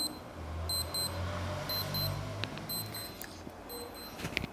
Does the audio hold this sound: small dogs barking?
no